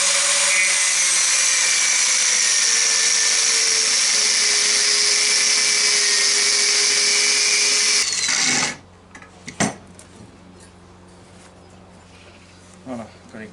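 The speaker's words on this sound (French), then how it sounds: "Ah, découpe des durites. Bon allez, moi je vais découper ça." A power tool whines loudly and steadily for about eight seconds while cutting hoses during a turbo install on a Nissan S14, then stops abruptly and leaves faint clicks and handling noises.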